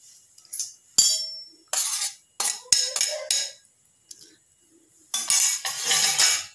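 A spoon mixes pounded garlic cloves, ginger, green chillies and cumin in a bowl, giving close, irregular bursts of metallic scraping and clinking with short pauses between strokes.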